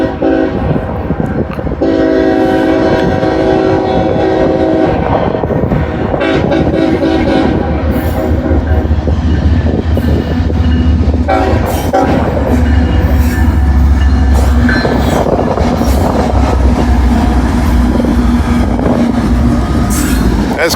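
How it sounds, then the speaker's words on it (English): A Conrail freight train rolls past close by, with a loud continuous rumble and clatter of wheels on rails, a sustained horn blast, and some wheel squeal over about twenty seconds. "Actually, yeah, it's Conrail."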